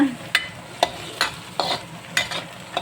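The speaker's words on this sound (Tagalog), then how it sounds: "Umpisahan ko na ang pagluluto ng mga gulay." Vegetables and beans are stir-fried in a pan, with a steady sizzle under a regular rhythm of sharp scraping stirs, about one every half second, close and fairly loud.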